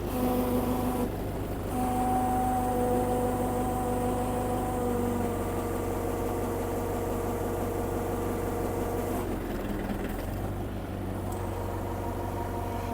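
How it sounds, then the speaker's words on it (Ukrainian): Kentavr F404XU tractor raising its three-point hitch on hydraulic cylinders with cold oil at minus five degrees, a steady mid-pitched engine drone with a shifting hydraulic whine, no talk. "Подивіться, як працюють гідроциліндри."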